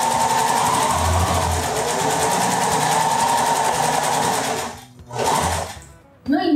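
Domestic sewing machine running steadily for several seconds while stitching a backstitch, a continuous whirring motor hum with fine rapid needle rhythm, pausing briefly near the end before a short burst and stopping.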